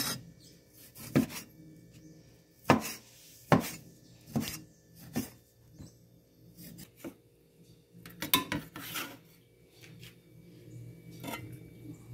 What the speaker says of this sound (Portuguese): Aqui eu vou cortar primeiro aqui o bacon, gente, bem pequenininho.